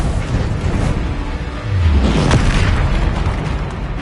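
A Confringo fire spell in the video game Hogwarts Legacy erupts in a loud, deep booming explosion that swells midway and rumbles on without fading.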